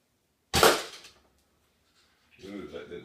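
A Muzzy Phantom broadhead arrow slams into a hide target with one loud, sharp impact that decays over about half a second, followed after a pause by quieter rustling and handling noise.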